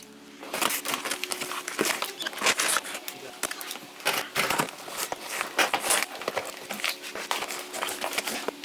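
Packaging crinkles and rustles up close with repeated snipping and tearing, busy and irregular, as a parcel box is cut open with scissors and its wrapping handled.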